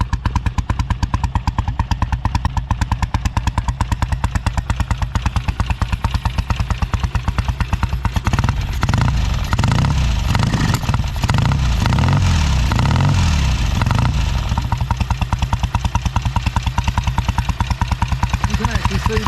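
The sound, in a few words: Royal Enfield twin motorcycle engine through straight-through exhaust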